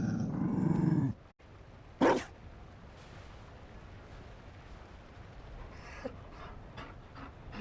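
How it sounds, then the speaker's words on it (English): A dog in the fantasy role-playing game Dragon Age Inquisition, giving a short loud burst of panting and growling, then a brief second growl, followed by quieter ambient game sound. "You found a dog?"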